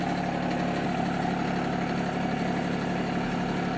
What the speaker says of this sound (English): At this point, you can turn the tractor off so that there's no hydraulic pressure